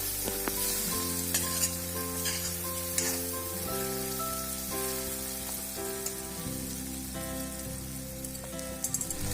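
Pigeon meat fries with onion, garlic and ginger in a pan, a loud, continuous sizzle close by, with a steady musical tone running underneath throughout.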